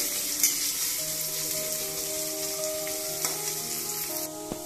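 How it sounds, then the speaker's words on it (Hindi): Onions and green chilies fry in a pan for Indori aloo poha, a dense, even sizzle throughout with a few faint clicks of stirring, close and steady with no talking. "सौंफ के बाद हम इसमें हरी मिर्ची प्याज को डाल करके फ्राई करेंगे।"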